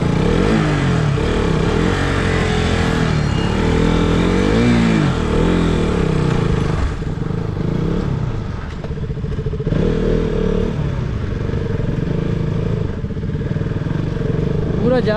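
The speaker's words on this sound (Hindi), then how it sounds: "हम लोग बाइक लेके जा रहे हैं" A motorcycle rides along an outdoor route in Assam, a close, continuous engine drone with revs rising and falling and some clatter, while people chatter over it.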